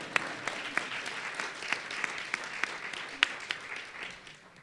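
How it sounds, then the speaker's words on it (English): An audience at a health care policy talk breaks into applause, a fairly faint wash of clapping with scattered sharper individual claps standing out, steady and then tapering at the end. "go ahead, you can clap."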